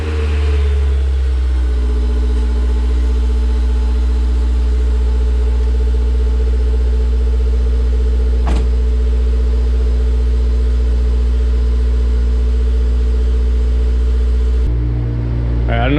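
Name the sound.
car engine cold start after exhaust gasket repair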